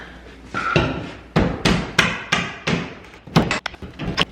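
Wooden door molding being pried and knocked off during an apartment renovation, a series of sharp cracks and thuds at irregular intervals, close and fairly loud, with no speech.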